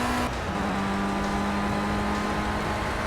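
A race car in Project CARS accelerates through a long looping right turn at Donington Park, its engine holding a steady, rising drone that carries loud and unbroken throughout.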